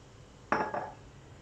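Chopped organic apple pieces dropped into a glass bottle, one sharp clinking knock with a short rattle that fades within half a second, otherwise quiet.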